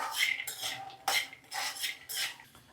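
Roasted peanuts for chutney are stirred in a hot pan after the stove is switched off: a spoon makes several close, rhythmic scraping and rattling strokes, each a short burst, with no talking.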